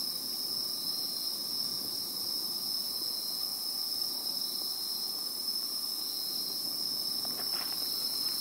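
A constant high, shrill drone of cicadas fills the air without pause, steady and fairly loud, with faint background noise underneath.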